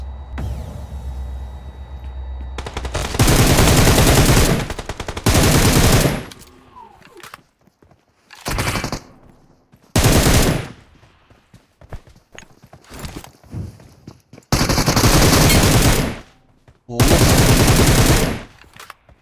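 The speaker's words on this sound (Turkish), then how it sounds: "Otkey UMP ile sıktı." UMP submachine gun fire in the PUBG Mobile video game: several loud, sharp bursts of automatic shooting separated by brief pauses, each burst lasting a second or two.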